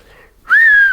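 A single loud whistled tone of the Gran Canaria Silbo whistled language rises sharply and then holds, slowly falling, after a quiet stretch of faint background noise.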